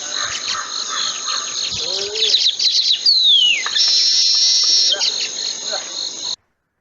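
A bird calls in a series of sharp chirps, rising whistles and a sweeping slurred note, close and clear over a steady high insect-like trill, ending abruptly.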